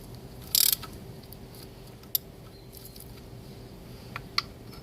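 Ratchet wrench clicks while snugging the drain plug on a BMW K75 motorcycle during an oil change, a burst of close clicking followed by a few sharp isolated ticks over a quiet workshop hum.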